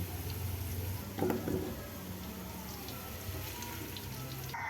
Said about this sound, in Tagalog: in another pan tayo. Prito tayo nito. Kahit mga 5 minutes.